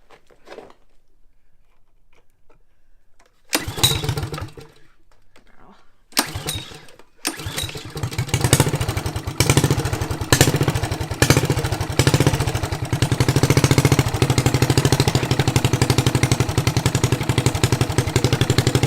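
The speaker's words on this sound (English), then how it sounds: "It doesn't like to idle well when it's cold, so you gotta kind of feather the throttle" A cold drift trike engine idles roughly with the throttle feathered, starting after a few seconds of quiet and then running loud, close and continuous with a pulsing, uneven beat.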